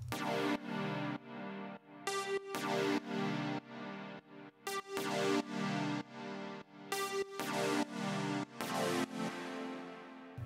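Thick, detuned saw-wave synth chords built in Ableton Operator, sounding alone in repeated sustained stabs with short gaps between them, loud and full.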